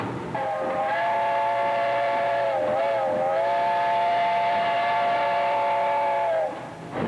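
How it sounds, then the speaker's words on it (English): An old steam locomotive on a circular track at a steam threshers reunion blows its whistle in one long, loud, steady blast for several seconds over the rumble of the engine, then cuts off. "the old steam engine chugged around the circular track"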